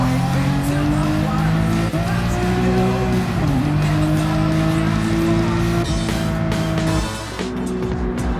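A BMW M3 races in Gran Turismo 7 on a tarmac circuit, its engine droning loud and steady with rising and falling revs and shifts, brief tire squeal through corners.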